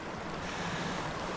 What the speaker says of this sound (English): Currently standing beside the little River Don, babbling away.